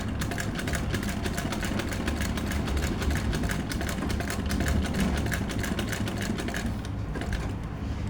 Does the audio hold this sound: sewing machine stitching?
yes